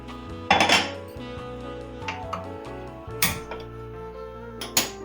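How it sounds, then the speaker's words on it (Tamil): A kadai pan set down on a stove for roasting peeled almonds: a few sharp metallic clanks and scrapes, close and bright, separated by quieter gaps with a faint background hum. "இப்போ ஒரு கடாயை வச்சு லேசாக வறுத்துக்கலாம்"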